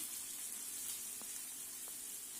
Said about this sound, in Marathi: कांदा व्यवस्थित सोनेरी रंगावर आपल्याला परतून घ्यायचा आहे